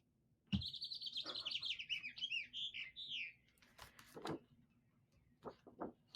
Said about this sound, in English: so you put this here, and it's a bird call